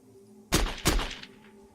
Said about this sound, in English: The two guns fired at the same time. The sound they made thundered inside the dome.